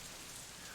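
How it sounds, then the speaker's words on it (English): Rain falling outside in the visual novel Katawa Shoujo, a dense, even hiss of many drops on surfaces, steady and soft throughout with no voices. "The rain outside picks up"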